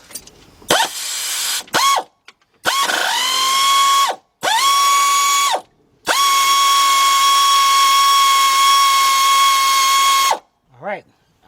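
Pneumatic air ratchet with a 9/16 deep 3/8-drive socket removing a bolt on a 1977 Buick LeSabre 5.7 engine: several loud, close bursts of high whining motor buzz, short at first, then one long sustained run before stopping.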